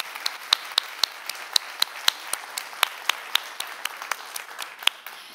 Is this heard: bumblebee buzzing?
no